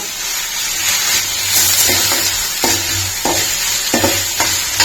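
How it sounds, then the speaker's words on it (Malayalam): Mustard seeds, ginger and garlic temper in hot coconut oil for tomato rasam, giving a steady close sizzle with a few sharp crackling pops and light stirring scrapes throughout, with no talking. "വെളിച്ചെണ്ണ ഒഴിച്ച് കടുക് പൊട്ടിച്ച് ഇഞ്ചി വെളുത്തുള്ളി സവാള ചതച്ചത്"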